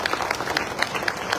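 Brief burst of audience applause during a speech: a moderate, even patter of many hands clapping, fairly close and unbroken over a second or so.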